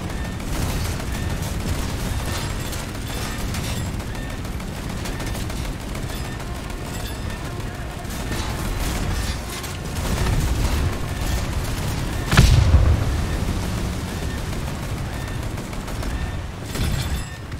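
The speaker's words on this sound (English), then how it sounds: "Being shot at lots. Lots of guns." A video game shootout with dense, continuous gunfire and rapid bursts, plus a louder booming blast near the end, all close and loud.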